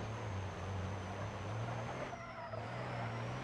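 Heavy-duty diesel pickup truck in BeamNG.drive, engine droning low and steady at high revs with a brief dip partway through as the wheels hop.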